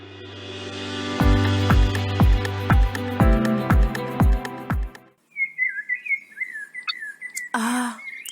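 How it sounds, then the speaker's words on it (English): Bright birdlike whistles and tweets rise and warble in the second half after a stretch of rhythmic thumping music, with a short burst of chirping near the end. "Those birds sound lovely, don't they?"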